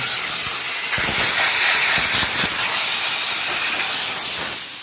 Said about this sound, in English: We're just doing a little bit of steaming.